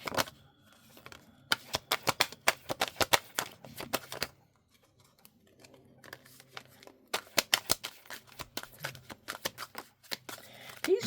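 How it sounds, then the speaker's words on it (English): A deck of cards being shuffled, heard up close as bursts of rapid crisp riffling clicks in two main runs separated by a quieter pause, with no talking. "These are really hard to shuffle today."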